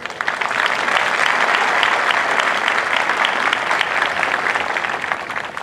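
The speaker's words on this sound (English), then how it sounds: "Please give yourselves a round of applause." Large crowd at an Air Force basic military training graduation parade breaking into sustained, even applause, broad and full for several seconds before easing slightly at the end.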